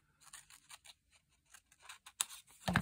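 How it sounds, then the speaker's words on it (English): Scissors cut a paper window envelope with quick close snips and paper rustle, ending in a louder crinkle. "I'm going to just cut the stamp part off."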